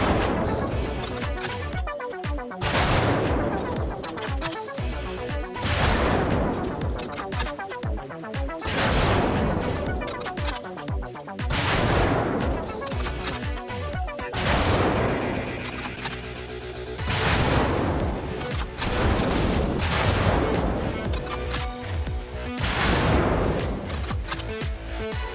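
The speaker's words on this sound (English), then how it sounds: "we're going to load up the OG-7V anti-personnel grenade" OG-7V anti-personnel grenade rockets fired one after another at a Bradley armored vehicle in the video game Battlefield: a long series of loud, booming blasts, each followed by a crashing decay, repeating roughly every three seconds.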